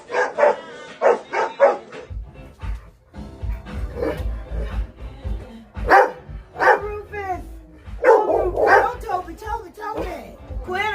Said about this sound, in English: Even Quinn has a howl or two.